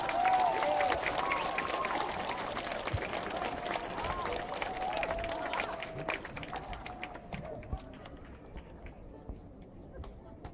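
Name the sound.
audience applauding a band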